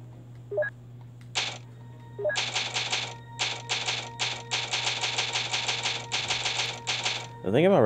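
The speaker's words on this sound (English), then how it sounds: "There's a typewriter right in here." Rapid mechanical clacking of a typewriter in the Resident Evil video game, bursts of keystrokes in quick rhythmic runs over a low steady hum, ending in a rising chime.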